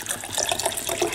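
Water pours in a steady, close stream into a large drinking glass, a brief bubbling splash with no talking.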